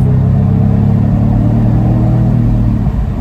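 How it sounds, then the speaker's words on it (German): Jaguar F-Type P300 engine, 300 PS, revving under acceleration as heard from inside the car: a loud, steady deep rumbling drone that holds for a few seconds with little change. "Ich drücke nochmal aufs Gas."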